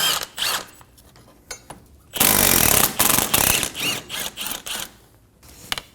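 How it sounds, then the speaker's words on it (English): Power tool with a 14mm socket removing the caliper bracket bolts on a 2008-2015 Scion xB, with one loud, close burst of rattling in the middle set among quieter clicks and short bursts. "remove the caliper bracket bolts."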